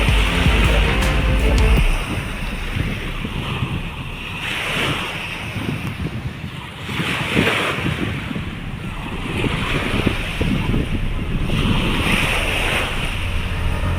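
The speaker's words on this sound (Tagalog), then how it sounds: "Mataas na yung tubig. High tide lakas ng hangin" Strong wind and high-tide waves break along the shore of Manila Bay, a loud continuous rush of surf with steady wind buffeting the microphone throughout.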